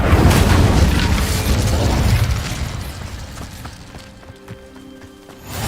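Incendio fire spell cast in Hogwarts Legacy: a loud burst of roaring, crackling flame up front that fades over a few seconds into quieter game ambience with faint tonal chimes.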